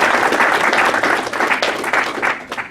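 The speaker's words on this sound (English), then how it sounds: "Please give a round of applause to" A seated audience at an evening community program dinner gives the panel dense, sustained applause, loud and close, with no voices rising above the clapping.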